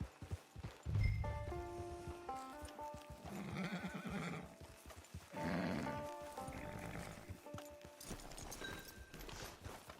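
A horse in the video game Red Dead Redemption 2 whinnies with a drawn-out, wavering neigh, followed by snorts and clip-clopping hooves, against faint game ambience and no speech.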